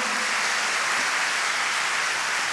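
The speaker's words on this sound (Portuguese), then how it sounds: "Aplauda o Senhor." A church congregation applauds steadily, a dense, even wash of many hands clapping with no talk over it.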